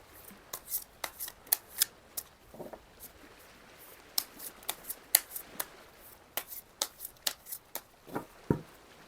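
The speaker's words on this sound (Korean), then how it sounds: "나의 이 좋은 일에 주의할 점도 추가 카드로 뽑아볼게요." Tarot cards being shuffled by hand, a steady run of close, crisp riffling and patting sounds of moderate loudness with no talk.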